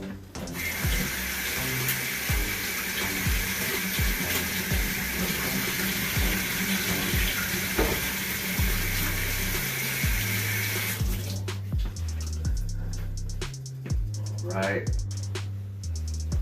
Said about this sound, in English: So we wash our hands, that's very important.